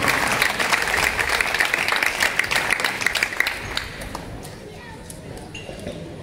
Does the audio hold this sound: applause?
yes